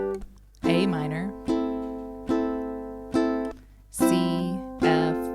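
Ukulele strumming simple chord changes from a song, six separate strums, each ringing out and decaying before the next, close and clear with no talk.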